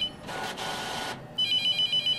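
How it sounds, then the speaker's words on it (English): In The Mortuary Assistant video game, a telephone rings in repeated electronic trilling bursts, loud and close, with a softer hissing stretch between rings and no voices. "That phone just gonna continue to ring"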